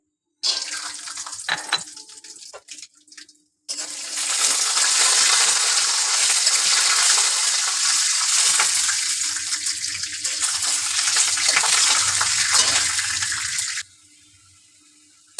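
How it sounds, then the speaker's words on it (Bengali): Peanuts tipped into hot oil for a potato singara filling set off a loud, steady sizzle and crackle that runs for about ten seconds, then cuts off sharply; a few clinks and taps come before it. "বাদামটা দিয়ে দিলাম তেলে"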